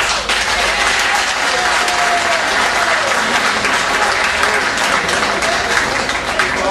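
At a municipal list presentation, a crowd applauds with dense, sustained clapping that fills the room throughout.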